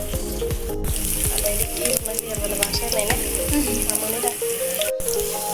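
Fish fries in a pan with a dense, steady sizzle and crackle close by, joined by occasional stirring scrapes, while faint tonal sounds run underneath.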